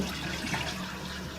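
A household toilet on a septic system flushing, a short steady rush of gushing water heard close up and alone.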